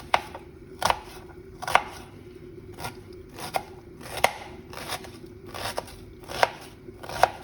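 Onion being chopped on a cutting board with a knife in a home kitchen, eight or nine crisp, evenly spaced knocks close by over a faint steady background hum.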